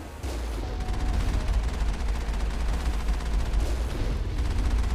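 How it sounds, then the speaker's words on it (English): Machine gun fire in a sci-fi video game, a steady rapid stream of shots layered over a low rumbling battle bed, continuous and fairly loud from start to finish. "So it's better to use the machine gun on infantry."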